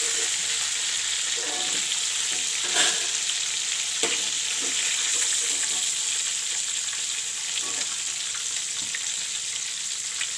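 Pieces of fish fry in hot oil in a pan, a steady, close sizzle and crackle that runs the whole time, with occasional faint clinks and stirring sounds and no speech.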